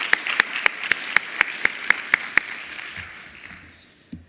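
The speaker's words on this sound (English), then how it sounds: "maybe even a round of applause for their work" A conference audience applauding after a paper session shout-out: a rhythmic run of about ten distinct claps over a softer patter that fades out within four seconds.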